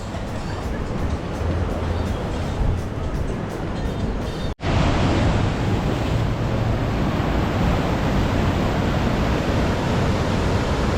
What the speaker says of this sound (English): I love to hear the sound of the ocean.